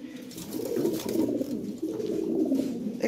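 Cooing from a pair of original European Lahori pigeons, golden dun in colour, held in a loft: a steady, close, continuous low purring coo that carries through the clip with barely a break.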